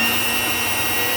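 A Chilipepper water pump switched on through a Shelly-1 smart relay hums steadily and evenly, a constant close mechanical drone with no voices.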